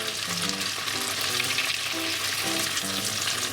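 Tofu steak fries in a pan with a steady, dense sizzle and crackle throughout, close up, with faint tonal sounds in the background.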